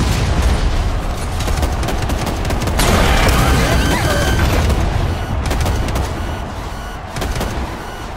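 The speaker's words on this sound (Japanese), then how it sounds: "見つけ次第ぶっ放してやる" Mech weapons blazing in a Figureheads ranked match: sustained heavy automatic fire mixed with booming blasts, loud and continuous, with a sharp explosive hit partway through and no talk.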